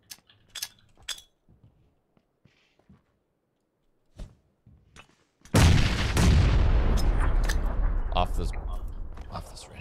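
In PUBG, a thrown grenade detonates with a sudden, loud, close blast followed by a long, rumbling decay, after sparse quiet game noises and brief talk.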